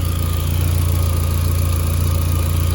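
An MK4 Volkswagen GTI idles on its first start with a newly installed K04 XLB turbo, a loud, close, steady pulsing rumble at a constant pace with an even hiss on top, no voices.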